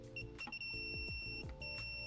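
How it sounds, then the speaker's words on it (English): A Klein Tools ET310 circuit breaker finder held against a breaker panel, giving a string of short electronic beeps and chirps, close and fairly quiet, with no talk. "when it beeps red, we know that we're on the right circuit"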